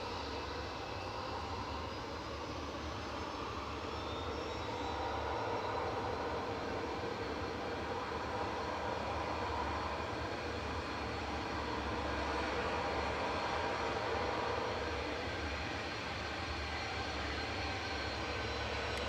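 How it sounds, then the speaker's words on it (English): Boeing 787-10 airliner arriving from Abu Dhabi, landing at Manchester Airport, its engines producing a steady, broad roar at moderate distance that swells slightly and holds for the whole stretch without voices. "This is flight 15 coming in from Abu Dhabi, A6 BMJ. 787-10, we don't get many of these."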